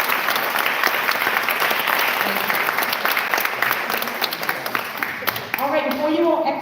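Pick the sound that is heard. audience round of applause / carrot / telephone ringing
audience round of applause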